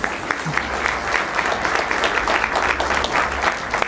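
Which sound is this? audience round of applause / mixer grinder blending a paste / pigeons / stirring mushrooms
audience round of applause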